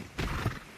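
A horse whinnies once in the Ark video game, on The Lost Island map, a short close neigh rising and falling over soft background ambience.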